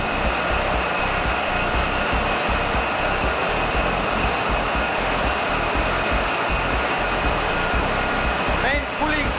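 Pumps run in a ship's engine room, including firefighting pumps and a freshwater ejector pump, making a loud, steady, dense mechanical roar and whine that fills the space, with a voice briefly heard near the end.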